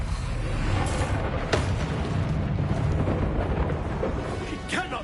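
A Bombarda spell explosion in Hogwarts Legacy, heard as a dense, rumbling roar that fills the whole stretch, with brief crackling bursts on top.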